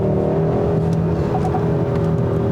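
A 2021 Hyundai Sonata N-Line sedan engine hums and revs steadily at close range while accelerating with 8-speed paddle shifting, with a brief higher whine midway; no voices.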